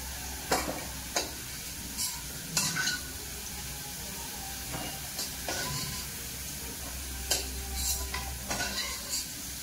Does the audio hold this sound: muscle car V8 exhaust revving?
no